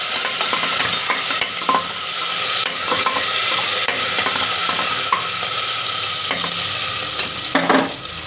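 Onion and tomato sizzle in hot oil tempering for a village-style avarekalu dal sambar, with a spoon stirring and scraping the pan in repeated strokes over the steady loud frying hiss.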